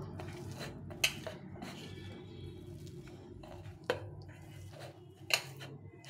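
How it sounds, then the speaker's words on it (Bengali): A utensil works boiled jackfruit seed mash together with raw mustard oil in a bowl, giving soft squishing and stirring noises broken by three sharp metallic taps against the dish at separate moments. "দিয়ে আবার সুন্দরভাবে মেখে নেব।"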